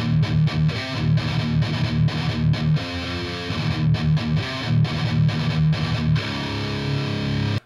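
Metal electric guitar played through the Kolos Rhythm amp preset, loud and heavily distorted, chugging a dense riff with palm-muted stabs and brief gaps, steady and close throughout with no talking.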